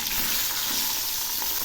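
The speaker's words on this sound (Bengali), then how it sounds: "এবার উল্টে দিচ্ছি।" Singhi fish frying in hot oil just after being flipped, a steady dense sizzle filling the short span at close range with no voices.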